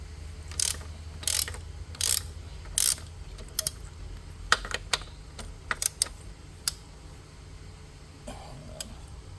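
A ratchet works loose an 18 mm motor mount bolt on a Ford Fusion with sharp, quick clicking bursts separated by pauses, close by over a low background rumble.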